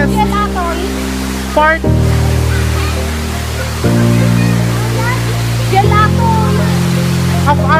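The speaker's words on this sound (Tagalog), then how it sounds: "So ito po ang isa sa pinakamagandang falls sa natanawin dito sa aming lugar." Falls at Keon High Waterfalls rush with a steady, full roar that runs unbroken throughout, heard beneath a speaking voice and sustained musical tones.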